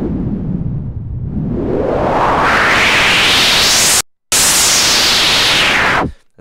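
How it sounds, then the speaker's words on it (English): A loud white noise sweep from a synth plugin rises steadily from a dull rush to a bright hiss, cuts out briefly, then falls back down before stopping. "all it does is generate white noise"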